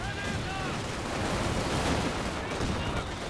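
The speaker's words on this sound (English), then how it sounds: "The mortars are just flying either way." Dense, continuous battlefield din in the Company of Heroes 2 video game, with mortar impacts and overlapping gunfire layered into a loud, unbroken roar of explosions lasting a few seconds.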